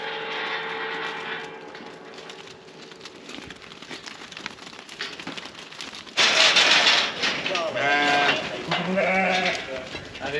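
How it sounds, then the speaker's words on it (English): Sheep bleat on a farm, the calls loudest and most tonal in the second half, rising over a steady background hum, with some voices mixed in. "Go on, sheep."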